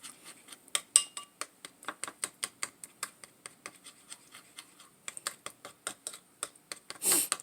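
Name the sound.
stirring melted mixture with a utensil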